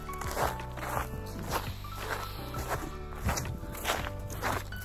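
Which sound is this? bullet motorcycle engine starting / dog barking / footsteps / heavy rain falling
footsteps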